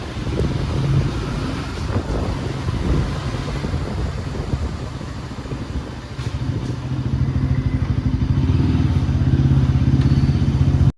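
A motorcycle engine runs steadily while the bike is parked in a Bengaluru mall's basement. It is a close, continuous low rumble that grows slightly louder toward the end, with some wind noise on the microphone and no talk.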